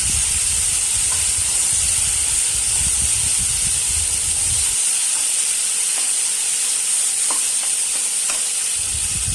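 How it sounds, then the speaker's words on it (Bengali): Mustard and poppy seed paste frying in a pan while being stirred with a spoon, a bright steady sizzle with soft scraping strokes and a few clicks against the pan, no talking. "এবার সর্ষে পোস্ত বাটা দিয়ে একটু নেড়ে নিলাম।"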